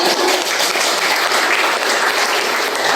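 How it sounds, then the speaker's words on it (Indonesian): Loud, dense hand clapping from a group, likely a classroom, sustained evenly for the whole stretch with no voices over it. "Ya, tepuk tangan dulu."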